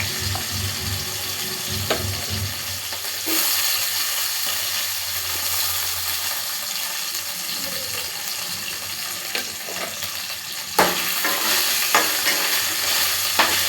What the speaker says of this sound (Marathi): कढईत तेल टाकलेलं आहे, त्याच्यात आपण पनीर थोडंसं फ्राय करून घेऊया